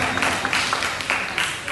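Audience applause for the first-place winner of an annual speech competition held by a press club in Attock, a dense steady wash of clapping filling the room with slight swells.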